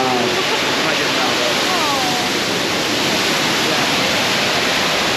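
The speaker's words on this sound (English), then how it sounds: "We made it to the waterfall." Steady, loud roar of a jungle waterfall in Colombia, a constant broadband rush close by, with faint voices briefly beneath it.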